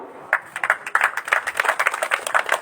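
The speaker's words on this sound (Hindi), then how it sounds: "आप तालियां बजाइए।" Scattered applause from a crowd at a village public meeting, many hands clapping unevenly in a loose, moderately close patter that holds steady throughout.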